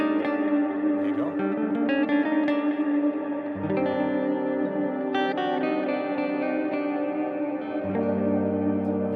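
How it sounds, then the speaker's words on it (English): An electric guitar plays melodic lead runs between chords through a heavy reverb and echo effect, notes ringing out long and washy, with chord changes every few seconds and no talking. "stick a load of that reverb on it. It just sounds absolutely huge"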